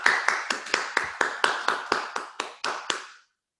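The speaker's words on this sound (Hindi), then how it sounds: "एक बार जोरदार ताली बजनी चाहिए" A hall audience at a BGC 2021 vote-of-thanks event claps for the team in unison: about thirteen sharp, evenly spaced claps, loud and reverberant, ending abruptly with no voices.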